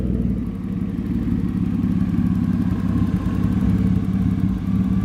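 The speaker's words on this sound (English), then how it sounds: "it's running, idling by itself" A BMW E36 drift car engine idles steadily up close with a low, uneven rumble and a faint irregular stumble in its rhythm from a misfire, no voices.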